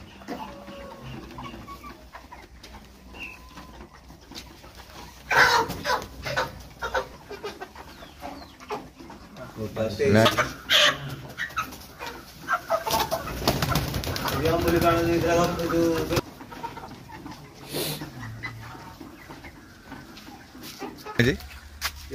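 Chickens at a market squawk and cluck in loud, irregular bursts, with handling clatter and talk from people nearby throughout.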